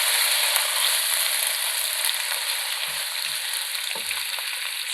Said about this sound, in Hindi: इसको हल्का सा फ्राई करेंगे और इसमें मैं चिकन डाल दूँगी और इसको हम हिला लेंगे।